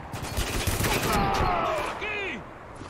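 Rapid automatic gunfire sprays bullets in the shooter game Spec Ops The Line, a dense, loud stream of shots over the first half that thins out, with game noise and a voice mixed underneath.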